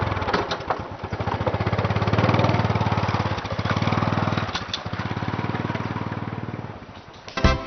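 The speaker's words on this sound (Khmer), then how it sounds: "បងវត្តបានម៉ូតូមកពីណាហ្នឹងថ្មីស្អាតទៀតផង" A new motorcycle's engine runs close by with a loud, rapid, steady putter, rising and easing slightly as it idles and revs, with a few brief knocks along the way.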